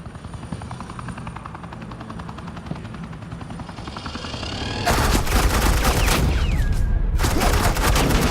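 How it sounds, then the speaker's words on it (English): Suppressing gunfire erupts in an animated Batman episode, a loud sustained rattle of rapid shots that kicks in suddenly over a helicopter-like drone. "Suppressing fire."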